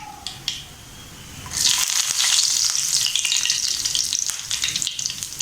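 Curry leaves drop into hot oil for lemon pickle, setting off a sudden loud crackling sputter after a few faint clicks, then a sustained vigorous sizzle with stirring scrapes.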